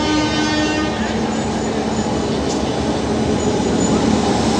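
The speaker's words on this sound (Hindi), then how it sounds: "Gwalior special train platform number पर 1 पर फाइनली आ चुकी है।" An Indian Railways Gwalior special train hauled by a WAP-5 electric locomotive pulls into a station platform with a steady loud rumble and faint horn tones, as someone speaks over it.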